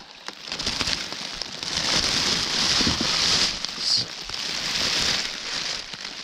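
Steady rain falling around a kayak on the Brazos River, a soft continuous hiss of drops with faint crackling patter, fairly quiet and even throughout.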